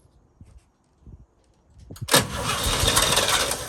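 A 1966 International Harvester 1100A pickup, long stored, with its BG 241 engine turning over: a few faint thuds, then at about two seconds the engine catches into a loud, steady roar that holds to the end.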